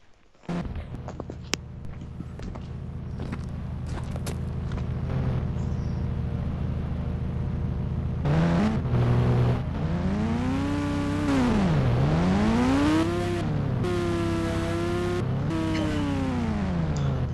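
A dirt bike engine in the Indian Bike Driving 3D video game idles with a steady hum, then revs repeatedly from about eight seconds on, its pitch climbing and falling in smooth sweeps.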